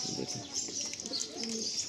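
Pigeons in a loft cooing continuously, soft low coos with a few chirps close by, steady throughout and no one speaking.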